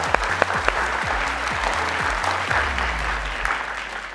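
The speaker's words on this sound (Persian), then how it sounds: "هر دویشون خوب تشویق کنین" Studio audience at a Family Feud game show applauds loudly and continuously, with a few sharper claps near the start and a thinner steady rattle as the clapping carries on without talk.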